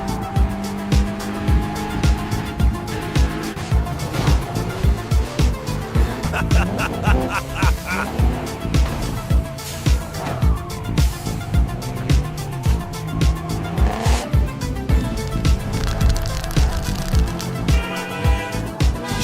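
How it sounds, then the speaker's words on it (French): Car skidding at high speed through city streets, tires squealing repeatedly over a loud revving engine, with rhythmic pulses and shifting pitch for the full length, no talk. "Elle dérape bien la caisse."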